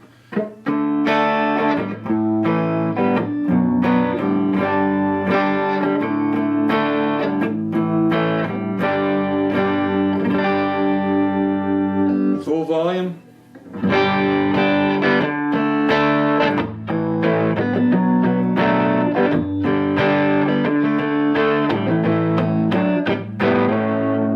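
Distorted electric guitar on a Telecaster's front pickup plays sustained, crunchy chords with a warm, rounded tone, ringing continuously with one brief pause midway.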